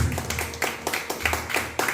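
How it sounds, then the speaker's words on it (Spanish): Applause from a congregation at a Christian baptism service in Casma in 2023: a run of sharp, rhythmic clap bursts repeating steadily for a couple of seconds at moderate loudness, with a voice faintly mixed in. "Denle un fuerte aplauso a Jesucristo, por favor"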